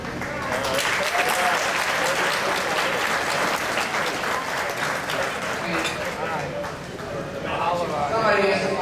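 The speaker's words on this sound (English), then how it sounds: "Let's give a big round of applause for all the men and women that prepared the food" Sustained applause from a picnic crowd, a thick steady wash of clapping lasting nearly nine seconds, with a slight dip before swelling again at the end.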